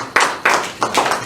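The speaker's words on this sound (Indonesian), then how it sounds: "tepuk tangan sekali lagi untuk kelompok" Group applause for students presenting in a classroom teacher-training session: a few loud bursts of hand claps, close and distinct, with no talking over them.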